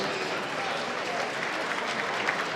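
Dinner event crowd applauds an honored guest, steady dense clapping filling the room at even loudness for the whole stretch.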